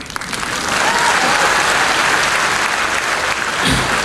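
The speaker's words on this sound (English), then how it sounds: "you at least give me applause, even if I bore you." Sustained, dense applause fills a college graduation day ceremony hall, building within the first half second and staying loud and steady throughout, with no clear voices above it.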